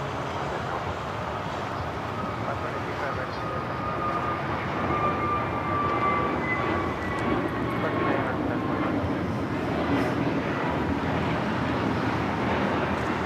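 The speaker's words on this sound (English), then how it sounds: "This is American Airlines 721 taking off to Phoenix on the A321neo" An American Airlines A321neo takes off, a sustained engine rumble and hiss at a fairly constant level, with a faint whining tone rising partway through and no talk.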